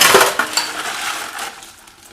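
Ice being scooped out of a container while making pickles, a run of hard scraping and clinking knocks up close that thin out and fade over about two seconds.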